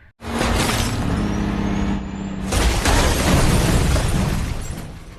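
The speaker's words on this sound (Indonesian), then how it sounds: "Dan seketika membuat mobil itu meledak." A car explosion: a sudden, loud, roaring blast followed by a sustained crackling rumble with no voices.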